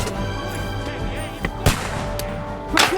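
Cannon and gunfire booms in Kingdom Come: Deliverance 2 during a siege battle, a few sharp blasts over a dense battle din, with one strong hit near the middle and another near the end, mixed with distant shouting.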